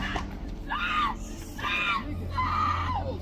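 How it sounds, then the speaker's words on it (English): A woman screams in repeated loud, sharp bursts, three in quick succession, amid crowd noise and commotion recorded on police bodycam footage. "the lady screams and runs"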